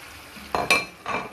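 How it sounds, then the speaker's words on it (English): Onions, ginger and garlic paste go into a hot pot and start frying, with two quick bursts of sizzle and stirring over a quiet base, close and brief. "I'm just gonna go ahead and add my onions, ginger, and garlic paste"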